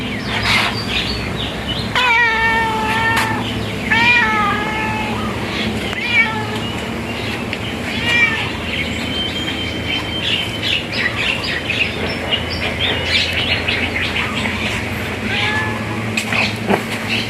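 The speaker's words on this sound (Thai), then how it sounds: "แมวเปอร์เซียประจำร้านนะคอยต้อนรับลูกค้าทุกท่าน" Several short meows from a Persian cat in a shop rise and fall over a steady background hum and murmur, repeating every couple of seconds at moderate loudness.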